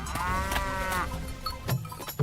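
A cartoon water buffalo lets out a long, loud, drawn-out low, close and up front, followed by a few shorter muffled thumps and noises.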